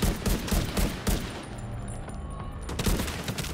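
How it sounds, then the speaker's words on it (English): Bursts of automatic machine gun fire in The Division 2 video game, rapid and loud, with repeated volleys across the clip and a brief lull in the middle. "The combination of this machine gun is the perfect combination."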